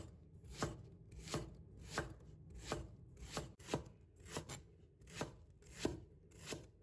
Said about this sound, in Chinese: 现在再准备1段大葱，把它切成厚片